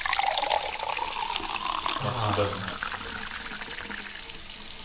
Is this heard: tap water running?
yes